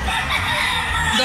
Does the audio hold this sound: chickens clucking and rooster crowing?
yes